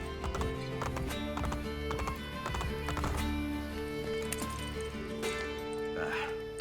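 Horse hooves clip-clopping at a gallop in Assassin's Creed Brotherhood, with steady rhythmic hoofbeats, an occasional whinny, and layered game music and ambience, with talking over it.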